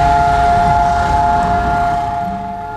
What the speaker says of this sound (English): A siren wails at night in Jerusalem.